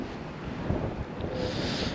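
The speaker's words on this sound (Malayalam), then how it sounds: "നല്ല കാറ്റുണ്ട്." Strong wind gusting outdoors during an evening walk, a steady broad rushing roar buffeting the microphone throughout, loud and close with no speech.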